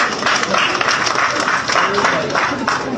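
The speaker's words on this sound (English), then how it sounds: "Round of applause again, please." An audience at a thanksgiving service claps in a steady, dense round of applause, close and fairly loud, holding at an even level throughout.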